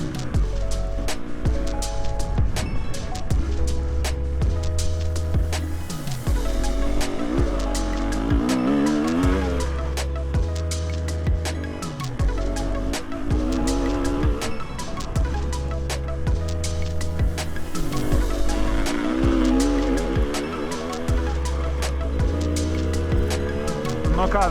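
Aprilia Tuareg motorcycle ridden at an enduro training camp, the engine revving and changing pitch repeatedly and loudly up close, with rider speech heard over it at times.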